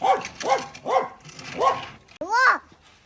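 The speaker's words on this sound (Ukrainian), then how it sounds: "Леон, Леон, не гавкай." A dog barks five times in a steady, close, loud series during an evening walk with children, each bark sharp and tonal, with a short break before the last, higher bark.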